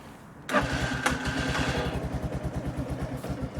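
A Lexmoto Venom motorcycle engine cranks and fires up, then settles into a steady, pulsing idle with a rhythmic thump, close and fairly loud, before cutting off.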